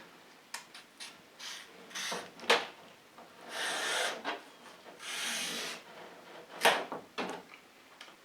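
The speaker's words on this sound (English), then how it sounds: "So I'm just going to peel this aloe vera leaf." Aloe vera leaf being peeled with a sharp professional chef's peeler, giving soft rasping scrapes in bursts, some longer strokes and a few sharper clicks, close and fairly quiet with no talking.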